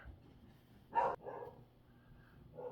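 A pet dog barks once indoors, a single fairly loud bark, followed by softer whimper-like noises and a faint later yip, with no talking over it.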